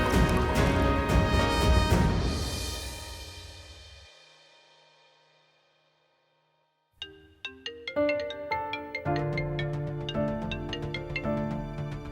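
A phone ringtone plays as a melodic electronic tune, loud and close, fading out into silence and then starting again as a bright, plinking melody.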